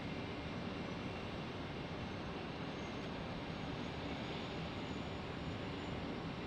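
A Cayman Airways airliner at Tampa International Airport, heard as a steady, fairly faint broadband jet roar that holds constant without a clear pass-by.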